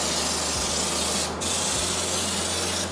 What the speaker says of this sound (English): Varying the spraying distance and the pressure at the gun will change the texture.